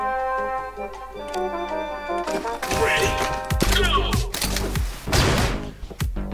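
Shots and thuds from guns in Mullet Madjack break out over tonal game music, coming as several sharp bursts and impacts partway through at moderate loudness.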